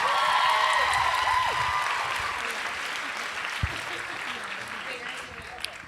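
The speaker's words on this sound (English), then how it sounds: "So give her a round of applause." Audience applauding at a live stand-up comedy show, a broad, steady clatter of clapping that is loudest at the start and tapers slightly while carrying on throughout.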